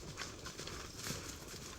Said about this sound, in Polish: konie galopują